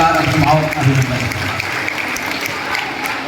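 An audience claps in welcome for the ADM and other officials at an Independence Day eve cultural program in Lohardaga. Loud, dense applause fills the hall while a voice speaks over it.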